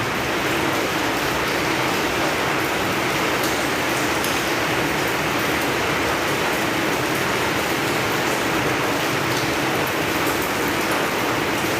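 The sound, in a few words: rain starting to fall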